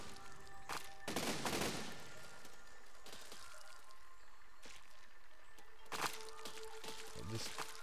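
Cannons firing in the siege-building video game Besieged, a few sharp booming blasts spaced several seconds apart, with crackling debris between them.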